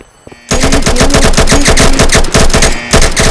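Loud, close automatic gunfire in a video game, a rapid continuous burst of rhythmic shots lasting about three seconds with a brief stutter near the end.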